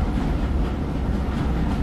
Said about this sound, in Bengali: ট্রেনটা নড়ছে, অর্থাৎ এটা ছেড়ে যেতে চলেছে